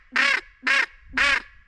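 A duck call blown to imitate a hen wigeon gives three separate nasal, quacking notes, each held for about a quarter second with short pauses between. The notes are close, loud and clear, and no one talks over them.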